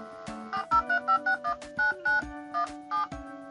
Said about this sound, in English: We're going to dial an actual phone number.